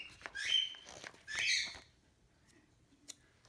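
A talkative pet bird squawks in two loud, harsh bursts close by, followed by quieter chirps and small rustles in a calm indoor room with no talking.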